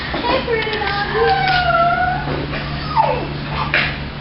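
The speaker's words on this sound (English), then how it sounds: "Hey, hey, pretty doggy." A frightened dog confined outside in a yard whimpers and yips in high, wavering cries, several rising and falling whines close by, while a person speaks soothingly over a low steady hum.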